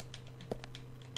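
A typewriter in the survival horror game Resident Evil Zero clacks out a few sparse, faint mechanical keystrokes during a save, with a slightly louder strike near the middle and another near the end over a low steady hum.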